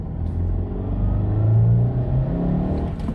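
A 2017 Honda Civic with the 1.5-litre turbo engine accelerating in eco mode, heard as a steady low rumble that swells in pitch and loudness as speed builds, with no talking.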